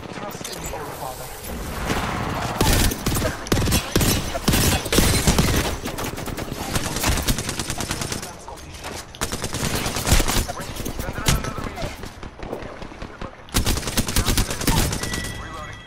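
Rapid gunfire from Apex Legends, with dense bursts of automatic shots and constant loud clatter that barely lets up, as a voice speaks now and then over the fighting.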